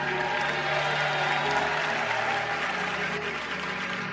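Steady, dense applause from a large church audience fills the whole stretch, sustained and even in level with no breaks.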